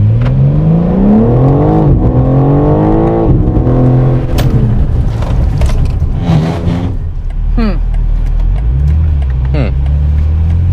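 A car on Hoosier TrackAttack Pro tires pulls away hard from a standstill, its engine note climbing through rising harmonics with gear changes, loud and close throughout, with a voice talking over the start.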